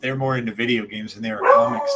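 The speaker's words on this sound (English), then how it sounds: "Excuse my dog barking." A beagle pit bull mix dog barks and yips at close range, mixed in under a person speaking steadily the whole time.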